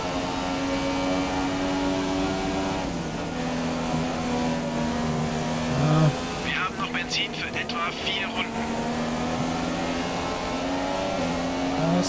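A Formula 1 car's high-revving engine whines steadily through a corner at the Hungarian Grand Prix in F1 2017, pitch dipping and climbing as it brakes and accelerates, with someone speaking German over it.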